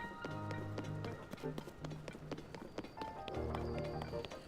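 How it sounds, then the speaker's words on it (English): Horse hooves galloping in Legend of Zelda: Tears of the Kingdom, a fast clip-clop rhythm of repeated hoofbeats over game music, loud and continuous for a few seconds. "Horse."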